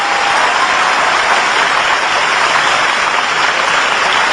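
Steady, dense audience applause at a Hindi-Urdu poetry recital, loud and unbroken for several seconds with no voices over it.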